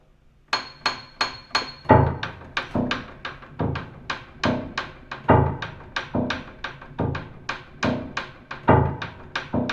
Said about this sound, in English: So that's my piano making all those sounds